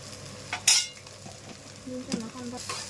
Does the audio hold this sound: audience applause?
no